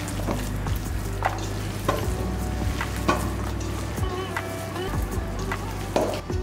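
Mushroom masala with chopped capsicum frying and being stirred in a pan, a steady close sizzle broken by regular scraping stirs and light clinks.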